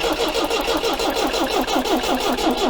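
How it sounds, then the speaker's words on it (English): An MGB engine with a newly replaced cylinder head and gasket cranks on its starter and does not catch, giving a loud, close, rhythmic churning that repeats evenly for several seconds with no talking. "Just crank it without giving it a whole bootful first of all"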